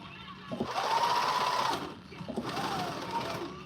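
A domestic sewing machine runs in two steady bursts with a short pause between, its motor whir close and fairly loud while someone sews dancewear.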